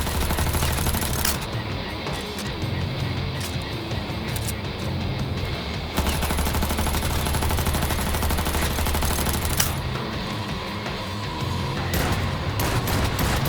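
Dense gunfire in the video game Cyberpunk 2077, sustained rapid automatic bursts and shots filling the whole stretch, loud and near with little pause.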